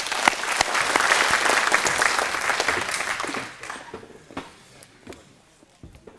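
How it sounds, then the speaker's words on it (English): Audience applause at a company gathering, a lively burst of many hands that dies down after a few seconds into scattered claps, shuffling and footsteps in the room. "one more round of applause."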